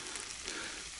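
Vegetable oil sizzles and crackles steadily in a frying pan on a stove in a taiga forest hut, a close, continuous hiss with dense popping and no voices.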